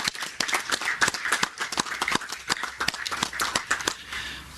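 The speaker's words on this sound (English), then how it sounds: "Let's give a round of applause to the secondary school executive" A modest audience at a secondary school sports league presentation claps for the school executive, with distinct individual claps audible in an uneven, fairly close patter that thins slightly toward the end.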